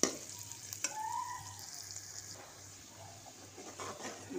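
A spiced gravy sautés in a pan with a soft, steady sizzle and occasional stirring scrapes, fairly quiet and close, with no talking.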